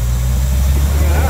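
A Jaguar E-Type engine idling steadily after a lean carburetor was fixed, a loud continuous low rumble heard close up.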